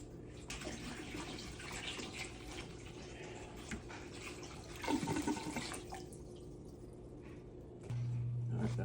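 Water drains and splashes out of an aquarium canister filter, a continuous trickling wash with a brief gurgling burst midway and a steadier flow near the end.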